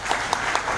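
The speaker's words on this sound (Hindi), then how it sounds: "तो ये तालियां आपके लिए होनी चाहिए।" An audience applauds at a motivational talk, a dense, continuous patter of clapping at moderate volume with a few slightly louder claps poking through.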